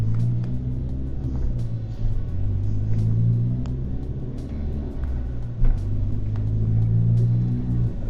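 An Audi S3 being driven during a tuning session gives a steady, loud low engine rumble heard from inside, with slight rises in revs and faint clicks over the drone.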